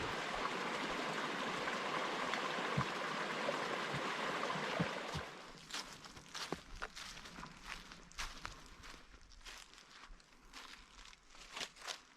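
A swollen creek rushes along a wilderness trail in a loud, steady broadband roar, then recedes to a fainter flow under close footsteps and rustling as someone walks away.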